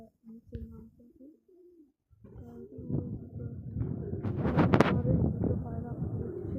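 Pigeons, both young and adult birds, coo in low, throaty, repeated calls near a rooftop water tank, building in loudness toward the end with a human voice mixed in.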